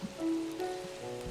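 Soft, even rainfall patters in a Minecraft world, a low hiss running beneath a few thin sustained melodic notes.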